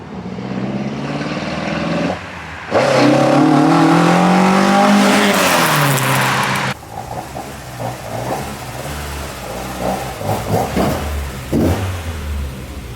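A Ford Mark II Escort accelerates hard, its engine climbing through revs in loud rising sweeps, then cutting to a lower, rougher idle-like rumble with irregular bursts, close and without speech.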